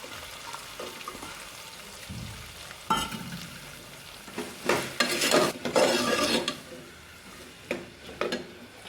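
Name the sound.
chopped onion frying in oil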